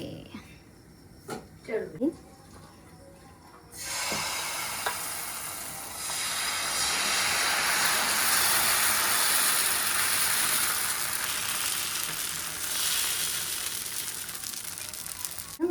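Dosa batter hitting a hot pan and sizzling steadily for several seconds, a loud continuous hiss close by, after a few brief taps and clatters.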